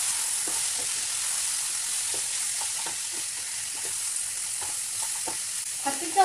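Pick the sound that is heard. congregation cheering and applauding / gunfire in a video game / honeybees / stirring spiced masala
stirring spiced masala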